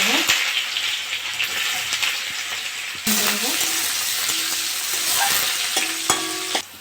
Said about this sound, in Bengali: পাঁচফোড়নটা ভাজা হয়ে গেছে, আমি এবার পেঁয়াজ দিয়ে দেবো।